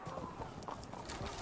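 Horse hooves from the Field of Glory 2 strategy game, a soft, steady clip-clop of cavalry under a dense, muffled game soundscape, fairly faint and brief.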